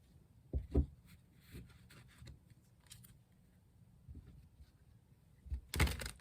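Soft papery rustles and a few brief flicking bursts of tarot cards being shuffled, close and quiet, with pauses between.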